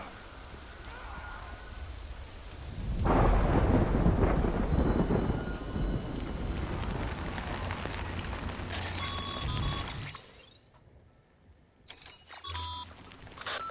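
Heavy rain and rolling thunder from the video game Death Stranding, a loud broadband rumble swelling after a few seconds and holding steady, then easing as faint tonal game sounds and chimes come through near the end.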